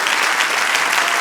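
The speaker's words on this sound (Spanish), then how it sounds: "Dele aplauso al Señor." Church congregation applauding during a service, a dense steady clapping from many hands throughout, fairly close and alone without talk.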